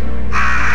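A single crow caws loudly and harshly in the PS1 game Resident Evil, one short raspy call filling the moment up close with no talk over it.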